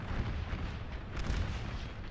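Cannon artillery fires in a Napoleon Total War American Civil War battle at Gettysburg, a low rumbling barrage of muffled distant booms rolling together without pause, with no speech.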